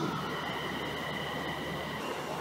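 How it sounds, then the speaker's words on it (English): A fast train rushes steadily through Paisley Gilmour Street station, a continuous loud rumble and roar of wheels on rails with a faint high hiss, no voices. "Fast train approaching."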